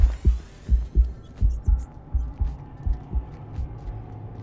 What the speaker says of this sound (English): The heartbeat, again, we put the delay on the heartbeat so you can hear it as you're getting up.